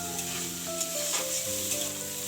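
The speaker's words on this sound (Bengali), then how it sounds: "ছোলা ভাজার জন্য তেল দিয়েছি কড়াইয়ে, পেঁয়াজ আর লঙ্কা আর একটুখানি লবণ দিয়ে ছোলাটাকে ভালো করে আমি ভেজে নিয়েছি।" Chickpeas fry in oil in a kadai with onion, chilli and salt, giving a close, bright sizzle with soft stirring scrapes, while a tonal hum sits beneath it and no one speaks.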